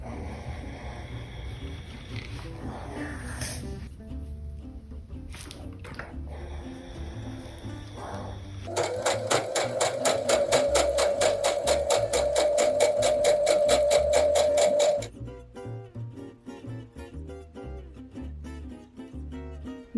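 A sewing machine stitches a dress with a fast, even mechanical rattle for several seconds, preceded and followed by softer handling noises and quieter motor sounds nearby.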